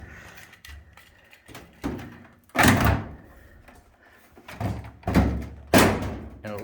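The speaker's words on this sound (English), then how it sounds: "It'd be helpful I close this door" The door of a GE clothes dryer being pushed shut: a series of dull thumps and knocks at close range, several separate impacts spread irregularly across a few seconds.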